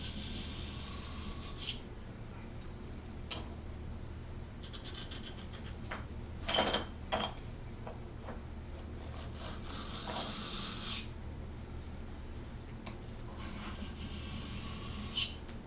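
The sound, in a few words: blade being sharpened on a sharpening stone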